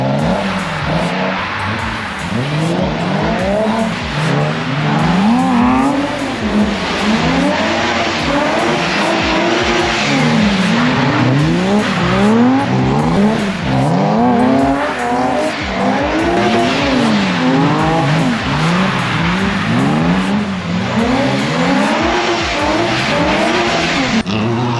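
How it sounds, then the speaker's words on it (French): A car drifting and doing figure eights on a drift track, with loud continuous engine revving and repeated tire squeals sweeping up and down close by. "Il y a une voiture qui vient d'arriver."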